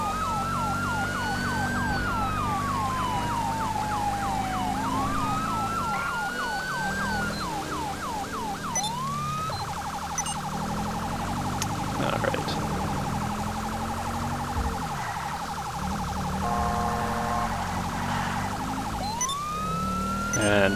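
Police car siren in the LSPD:FR video game, loud and continuous, sweeping through wailing and rapid yelping patterns over steady engine and road rumble, with no talking.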